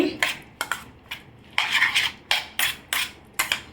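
Egg kuzhi paniyaram batter being mixed in a bowl, with a utensil repeatedly knocking and scraping against the bowl in quick, sharp bursts, close and fairly loud, without any talk.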